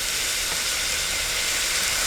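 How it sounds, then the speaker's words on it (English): Onions, green pepper and three or four cloves of garlic sizzle steadily in a hot pan for a Cuban-style dinner, giving a dense, even hiss that holds at the same level throughout with no voices. "You want to cook this until the onions are translucent and cook it for 2 to 3 minutes."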